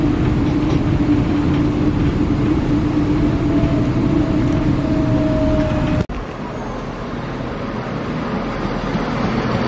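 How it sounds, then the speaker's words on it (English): A continuous rumble of a tram rolling past at moderate distance near Haymarket, with a faint squeal and an abrupt drop in noise near the end. "there is a tram coming down there."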